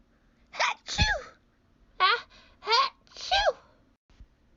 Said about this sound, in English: I guess I didn't know butterflies could make me sneeze too.